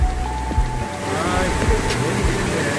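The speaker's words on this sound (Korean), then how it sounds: "물소리 봐요." Mountain stream rushing through a rocky valley on Yeonseoksan during a ridge hike, a steady broadband wash of water close by with faint thumps and a brief tonal whine, no talk over it.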